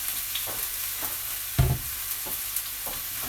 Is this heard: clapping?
no